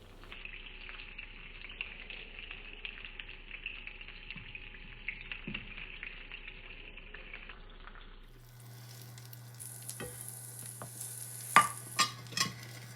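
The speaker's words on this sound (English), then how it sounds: "now we're ready to add that diced up guanciale" Diced guanciale goes into olive oil in a pan for carbonara and gives a faint, steady sizzle, followed by scraping, stirring and clinking, all quiet, close and without talk.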